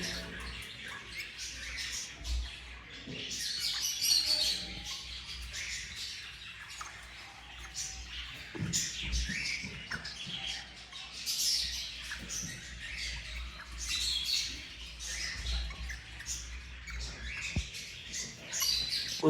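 A breeder pair of rosella parrots, a Rubino male and a red opaline female, at a pet bird shop in Islamabad, making frequent high chirps and squawks in a busy, moderately loud aviary with no talking.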